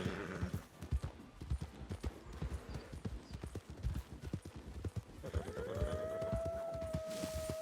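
A horse's hooves clip-clop in uneven steps on a trail heading toward the desert. The hoofbeats are close and loud, and a drawn-out whinny rises near the end.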